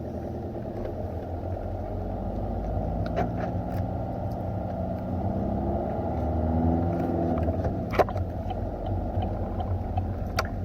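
A car engine runs as the car pulls slowly onto a road, a steady low rumble and hum heard from inside with a few faint clicks and knocks, no talk.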